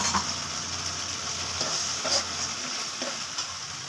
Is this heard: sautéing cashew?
yes